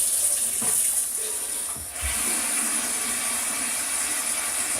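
Water runs steadily from a tap as it is drawn off, a close, even hiss that keeps going for the whole few seconds with only a brief dip midway.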